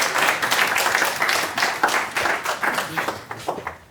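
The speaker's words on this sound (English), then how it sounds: "And now a very big applause for" Audience at a tech demo night in The Hague claps for a speaker, a dense burst of applause that thins toward the end into a few scattered, distinct claps.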